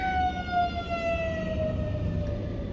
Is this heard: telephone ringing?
no